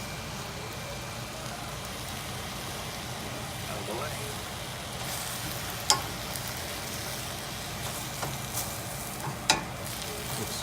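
Shallots and kale sizzle in a hot pan with a soft, steady frying hiss, faint and continuous, punctuated by a few sharp clicks and scrapes of a utensil.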